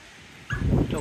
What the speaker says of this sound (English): Dogs all getting excited because they know they're going to be able to go down on the beach